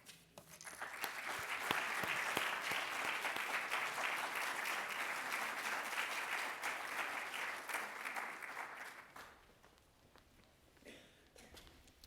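Audience applause welcoming two speakers at a talk about free speech history, a dense burst of clapping that swells within a second, holds steady for about eight seconds, then fades to scattered claps.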